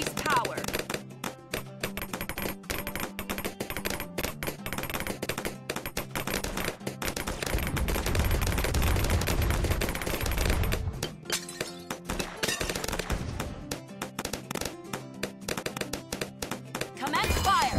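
Military towers firing in the video game Bloons TD 6, rapid, continuous machine-gun style fire with dense tapping shots and heavy thuds, busy and loud throughout.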